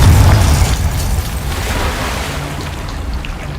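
Confringo blasting spell from Hogwarts Legacy bursts with a loud, deep boom at the start, then a rumbling roar that slowly fades over several seconds.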